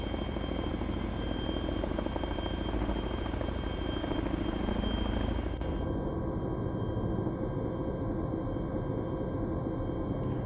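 Twin-rotor Chinook helicopter in Arma III flying steadily, a dense continuous rotor and turbine roar that holds level throughout, with a slight shift in tone about halfway.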